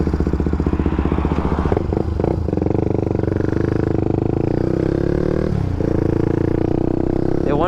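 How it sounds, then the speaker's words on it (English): A Honda EF scooter rides along a freeway, its engine droning loud and steady with wind rush, the pitch dipping and surging briefly a few times before settling back into a constant cruise. "This bike can cruise on the freeway all day."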